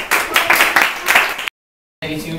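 A young audience of schoolchildren claps after a play, producing a brief burst of close, dense applause that cuts off into silence. Applause resumes faintly afterward.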